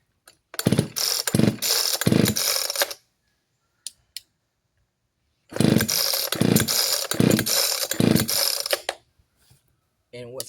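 An Echo CS-4910 chainsaw revs hard in two separate bursts of a few seconds each, loud and close, its rasping snarl rising and falling with the throttle, split by a stretch of near silence.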